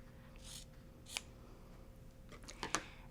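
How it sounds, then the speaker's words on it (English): Scissors snip through the fabric backing of a finished cross stitch piece, a few quiet, crisp cuts spaced apart and then a quick cluster of snips near the end. "I'm going to cut about 1/4 inch away from my stitch line"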